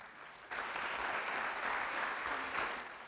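Audience applause breaks out abruptly at a conference's closing session and continues as steady, dense clapping from a large crowd, holding at full strength until the end.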